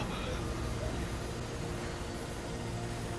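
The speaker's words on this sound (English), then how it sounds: "That's the helicopter." A helicopter in the Mirror's Edge video game gives off a steady, loud rotor and engine drone that fills the whole stretch without a break, with a dense low rumble and a broad hiss above it.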